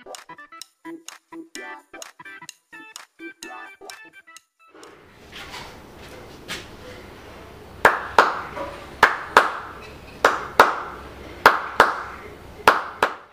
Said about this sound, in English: If everything works properly, after 2 claps in a sequence,